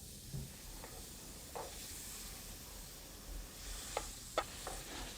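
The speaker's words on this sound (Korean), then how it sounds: "먼저 고기를 한번 넣어 볼까요? 천천히 한번 넣어 줄게요. 그리고 잘 한번 볶아 줍니다." Meat stir-fried in a frying pan gives a faint, steady sizzle and hiss, broken by a few soft scrapes and clinks of the utensil against the pan.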